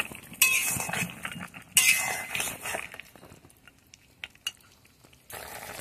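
A metal utensil stirs mustard paste and lentil dumplings (bori) in a pan while making a bitter small-fish dish. Sharp clinks and scrapes come in a few bursts, separated by quieter gaps with faint sizzling.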